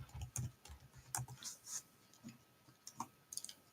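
Quiet, close keystrokes on a computer keyboard come in short irregular bursts of clicks with brief pauses between them, faint and without talk.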